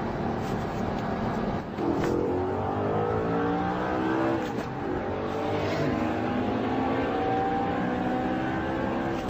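A Bugatti Veyron accelerating alongside an Audi R8 on an open road: a steady, fairly distant engine roar builds and sweeps upward in pitch, with no talking.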